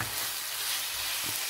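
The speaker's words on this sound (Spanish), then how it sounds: "Y lo envolvemos todo mientras se va sofriendo." Pesto sauce sautéing in a pan with basil, giving a steady close sizzle with a couple of soft stirring scrapes near the end.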